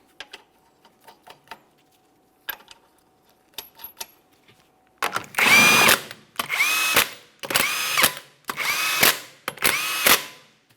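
Power tool running down five 21mm lug nuts on a 2007-2017 Mitsubishi Lancer 2.4L rear wheel: light clicks and rattles, then five loud close buzzing bursts, one per nut, each about a second long.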